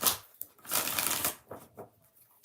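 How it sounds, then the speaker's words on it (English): A tarot card deck is shuffled close up, giving a quick riffling flutter in a couple of short bursts, alone without talk. "I need to shut up and shuffle."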